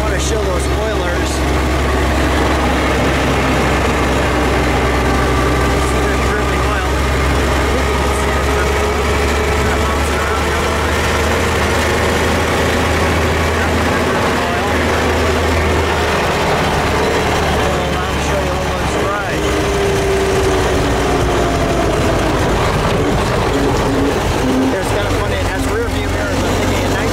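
A 1907 Stevens Duryea Model U, warmed up, runs with a steady, loud low engine drone, its rhythm holding even throughout, with faint voices in the background.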